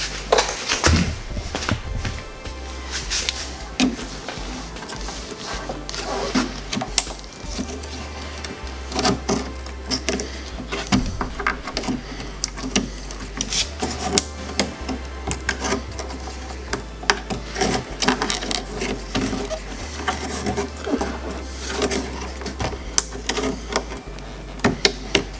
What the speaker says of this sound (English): This is gonna work better with a little screwdriver instead of a knife.